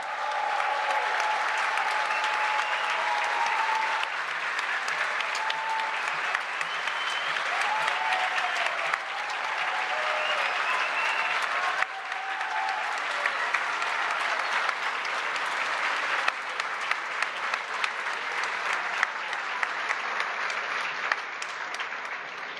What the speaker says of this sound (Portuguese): uma salva de palmas em reconhecimento pelo seu trabalho